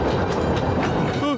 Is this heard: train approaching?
yes